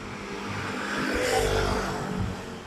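Highway traffic with a vehicle engine swelling and passing nearby, a broad rumble over steady road noise that fades afterward.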